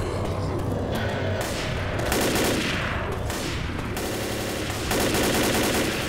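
Sustained automatic gunfire in the zombie shooter Left 4 Dead, dense rapid bursts running almost continuously with brief dips and a louder stretch near the end.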